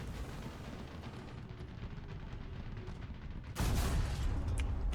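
A tank cannon shell strikes an enemy tank's hull in a tank battle video game, a single heavy broadband impact bursting in loud after a stretch of low rumbling ambience.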